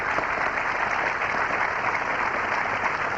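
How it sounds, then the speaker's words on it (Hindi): Steady, dense applause from a television quiz-show studio audience honoring a contestant who has just quit the game, continuous and even in loudness with no talk over it. "एक बार तालियों के साथ इनका एक बार फिर अभिनंदन किया जाए।"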